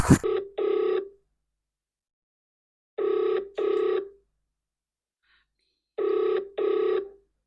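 A phone call rings out unanswered, three paired ring bursts repeating every three seconds with silence between, clear and close, before going to voicemail.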